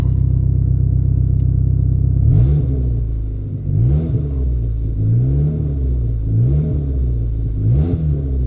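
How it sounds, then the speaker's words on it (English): A car engine idling steadily at close range, a deep constant rumble with several periodic surges and dips as the revs shift, and no one speaking. "Engine RPM's coming down."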